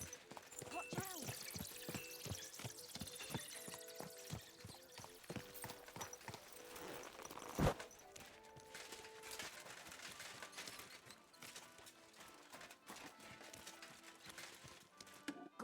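A horse's hooves clip-clop in Kingdom Come Deliverance 2, a run of rhythmic thuds near the start under game music and ambience, with a sharp bump midway and voices talking around it.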